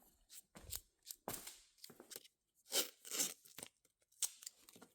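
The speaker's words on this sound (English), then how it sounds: "So we need painter's tape." Painter's tape torn off the roll in several sharp ripping bursts, close and loud, with short pauses between pulls and no talking.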